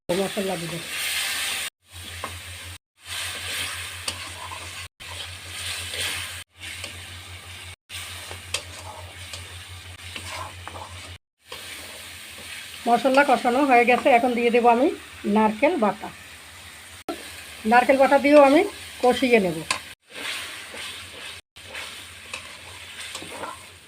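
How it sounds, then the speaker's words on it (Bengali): Colocasia stem and prawns cooking with turmeric, salt and cumin paste in a little water, a low steady sizzle broken by short gaps, with stirring scrapes and a voice talking over it in the middle. "এখন আমি অল্প জল দিয়ে কষিয়ে নেব"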